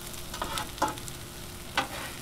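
Potatoes and onions frying on a Blackstone 22-inch griddle give a soft continuous sizzle, with two or three brief scraping stirs of a spatula, fairly quiet and with no speech.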